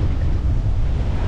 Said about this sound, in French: Bon là le vent il est retombé à 18, 19. Mais il y a des rafales 20, 25.